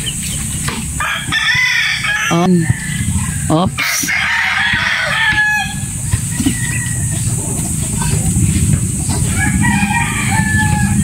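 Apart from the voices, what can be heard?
chickens clucking and rooster crowing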